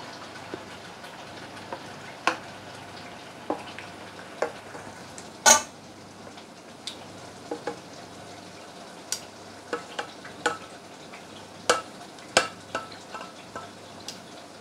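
A utensil stirs cake batter with cream cheese in a bowl, giving soft wet scraping under a quiet background, punctuated by a series of sharp clicks and knocks against the bowl, and one louder clank near the middle.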